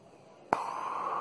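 A puff of breath blown into an amoeba slime toy starts abruptly halfway through as a close, breathy rush that holds steady at a fairly soft level until the end, with no talking.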